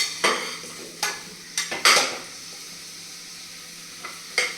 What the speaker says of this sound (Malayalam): ചേനയെ ഒന്ന് ഇട്ട് വഴറ്റി